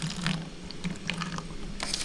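Apple cider vinegar pours and splashes into a bottle fly trap, a short liquid trickle with gurgling bursts, close and moderately quiet.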